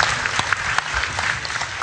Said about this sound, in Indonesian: Tepuk tangan untuk Kiai Kanjeng.